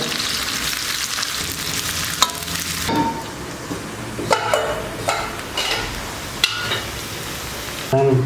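Onion fries in oil in a pan for mutton haleem tadka, a loud, close, continuous sizzle that drops partway through, then scattered stirring scrapes and utensil knocks against the pan.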